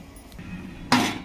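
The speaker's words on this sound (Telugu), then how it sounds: "ఇలా మూత పెట్టేస్తాం" A lid drops onto a cooking pot of egg curry with one sharp, close clank near the end, after a brief soft rustle over quiet room tone.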